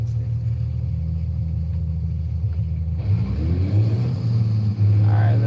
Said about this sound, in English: Man, this sounds like 3 different cars, like 3 different engines in this